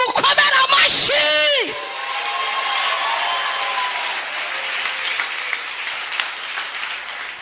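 An audience at a church testimony gathering breaks into sustained applause after a loud shouted exclamation. The clapping is steady and full, with scattered whoops, and continues evenly to the end.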